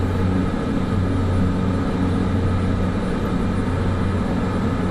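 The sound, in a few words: Cessna 208 flying, from video game Microsoft Flight Simulator 2024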